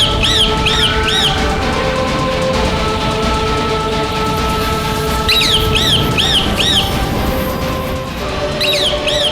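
A bird, a demon spy in bird form, gives repeated sharp squawking calls in short bursts of three or four over a busy, loud background.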